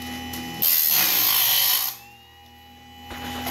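A homemade bandsaw blade sharpener grinds loudly for about a second and a half, a steady high-pitched whine over a running motor hum that then drops back to a quieter drone.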